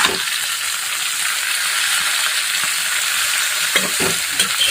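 Fenugreek leaves sizzle steadily in a hot pan while a spoon stirs them, producing a continuous close frying hiss with a few scraping clicks near the end and no talking.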